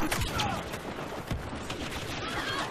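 Rapid bursts of blaster laser fire in the Star Wars: Battlefront video game crackle in quick irregular volleys, some sharp and close, others distant, with a player talking in between.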